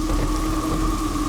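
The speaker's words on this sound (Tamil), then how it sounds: "ஐயோ இவ்வளவு மழை பெய்யுதே." Heavy rain pours in a thick, steady hiss during a storm, loud and continuous, with a constant low rumble beneath it and no voices.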